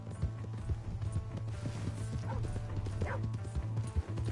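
Horse hooves clip-clop steadily on the ground in the video game Red Dead Redemption 2, a close, quick rhythmic patter of hoofbeats with brief faint vocal sounds in the background.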